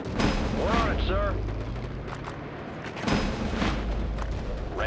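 Gunfire from units in the WWA RTS World War strategy game, bursts of shots and booms that swell at the start and again near the three-second mark, layered under voiced unit acknowledgements.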